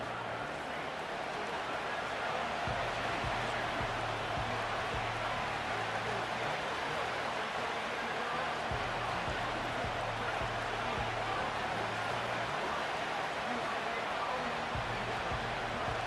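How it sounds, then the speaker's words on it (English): Constant stadium crowd roar fills a Madden NFL 25 video game broadcast of the Kansas City Chiefs at the Cleveland Browns, steady and dense throughout. A play-by-play commentator talks over it. "This crowd into it now as we get to 3rd down."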